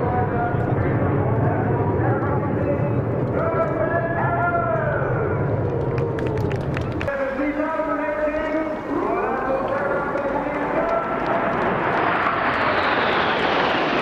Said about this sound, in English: Those are some really cool looking planes.